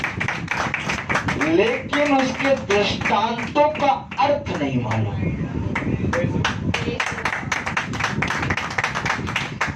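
A church congregation claps hands in quick, steady rhythm throughout, the sharp bursts of clapping overlapping a preacher's spoken sermon in Hindi.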